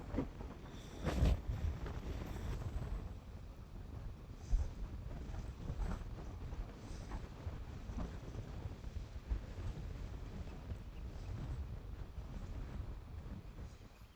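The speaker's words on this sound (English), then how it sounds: "And the wind is blowing very hard again." Strong wind blows steadily outdoors, a constant low roar with buffeting against the microphone and a few sharper gusts, with no voices.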